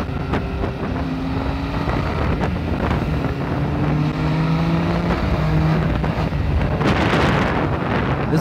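A Benelli TNT motorcycle's engine and exhaust hum under heavy wind rush while riding on Indian roads, a steady buffeting roar with faint engine tones rising and shifting through the stretch and a brief gust near the end.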